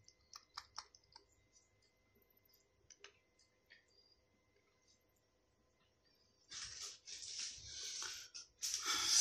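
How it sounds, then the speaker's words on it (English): Sparse clicks and taps on a computer keyboard beside a Dell Optiplex 7000 desktop, a few quick presses early on, then a louder burst of rapid clicking and rustling near the end. "You press F12 on your keyboard to access your boot menu."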